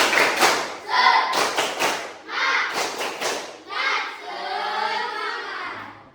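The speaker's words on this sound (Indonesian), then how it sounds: "Tepuk semangat." A class of sixth-grade children stands and performs a rhythmic clapping chant in a classroom, bursts of claps in patterned groups with voices chanting along, ending in a sustained ragged stretch of clapping.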